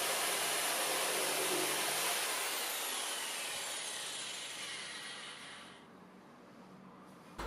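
A hand saw cuts through a forked wooden branch being shaped into a slingshot, giving a continuous, close, rasping wash of noise that slowly fades and then drops off near the end, with no voices.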